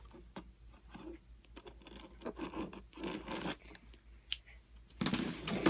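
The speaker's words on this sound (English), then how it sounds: "Okay, so got some scissors here." Scissors cutting open a keyboard box, giving close, quiet bursts of snipping, scraping and cardboard rubbing in an irregular rhythm, with a louder rustle at the end.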